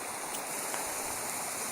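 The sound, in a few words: river water flowing near Slaley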